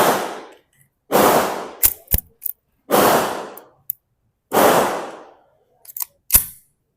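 Four loud, close blank shots from a Kral Arms KR9 blank pistol, spaced about a second and a half apart, each followed by sharp metallic clicks and clacks of the slide and handling.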